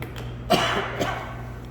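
A single cough rings out from the audience at a church revival meeting, with a second, softer cough a moment later over a steady room hum.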